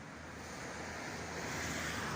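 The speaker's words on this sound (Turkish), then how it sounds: "Şimdi oturuyoruz sahilde. Deniz de çok güzel arkadaşlar." Sea waves washing onto a rocky Turkish shoreline, a steady broad roar of surf with light wind rumble, continuous and moderately distant, no voices.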